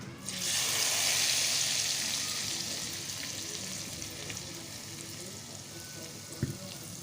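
Hot oil tempering bursts into a loud sizzle in a pan as it is added to creamy chickpeas, then settles into a steady hiss that slowly fades.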